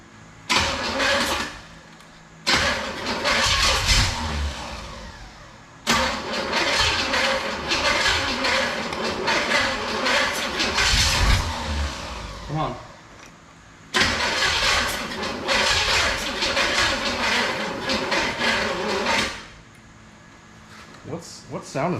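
A rusty big block Oldsmobile Cutlass engine cranks loudly in repeated bursts, sputtering and popping with sharp backfires between long starter runs, with brief pauses and people talking in between.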